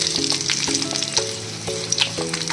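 Veld grape chutney frying in oil in a pan on a low flame, a steady close sizzle with periodic scraping stirs every half second or so, no voices.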